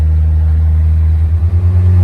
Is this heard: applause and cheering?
no